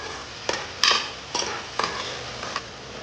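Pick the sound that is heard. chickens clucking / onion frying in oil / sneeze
onion frying in oil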